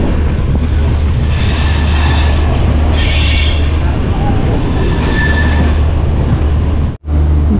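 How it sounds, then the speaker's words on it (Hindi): Two Sadbhavna Express trains pass each other at the outer signal near Ghazipur, giving a loud, continuous rumble with rhythmic wheel clatter and a sudden brief drop near the end. "सद्भावना एक्सप्रेस का सद्भावना एक्सप्रेस से आमना सामना हो रहा है"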